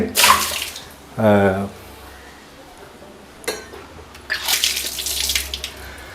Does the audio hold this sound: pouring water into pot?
yes